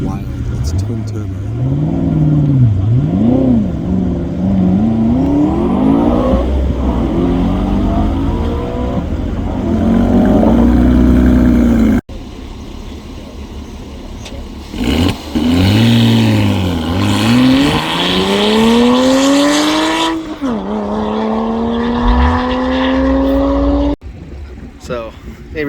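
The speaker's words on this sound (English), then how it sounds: "This R8 is wild. It's twin turbo." A twin-turbo Audi R8 revs hard on a winding road tour, its engine climbing and dropping through repeated loud surges and gear changes, heard from close by with people talking over it.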